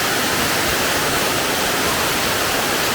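The upper waterfall of a hidden waterfall in Ghana roars as a dense, steady broadband rush of falling water, loud and close with no voices.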